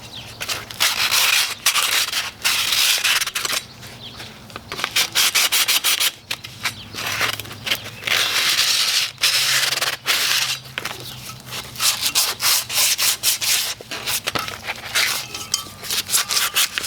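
Hand sanding with 120 grit sandpaper on a Christmas lantern, close rhythmic scratchy rubbing strokes repeating steadily with brief pauses, no voices.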